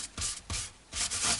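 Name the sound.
sanding guitar frets with sandpaper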